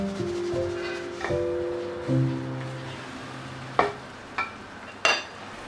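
Herb pasta sauce thinned with warm water is stirred in a pan, with a soft, gentle bubbling sizzle and a few sharp spoon scrapes and knocks near the end.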